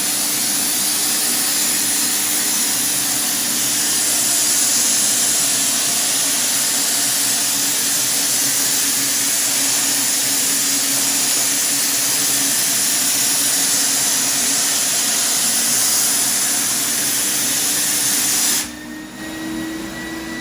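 A Titan Cap Spray 115 HVLP paint sprayer applies a fine-finish coat, producing a steady, loud, broadband hiss that runs unbroken for about twenty seconds before dropping slightly in level near the end.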